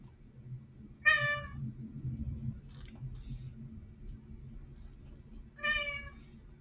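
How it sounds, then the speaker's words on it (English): A domestic cat meows twice, a few seconds apart, with clear nearby cries over a quiet, soft rustling background. "I guess the cat wants to do math with us today."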